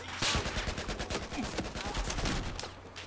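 Rapid gunfire from the Battlefield 4 video game, dense bursts of automatic shots cracking in quick succession throughout, fairly close and unbroken by talk.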